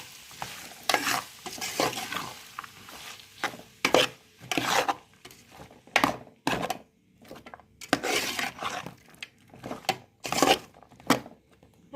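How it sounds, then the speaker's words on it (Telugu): Onion and green chilli pieces stirred in a pan, repeated scraping strokes of a spatula against metal in irregular bursts over a soft sizzle of frying, close and fairly loud. "అన్నీ కలిసేలా కలుపుకుందాం."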